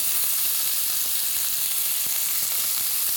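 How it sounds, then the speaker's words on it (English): Meat sears in a hot pan with a steady, dense sizzle, loud and close throughout, with faint stirring or shifting underneath. "Sear it on both sides."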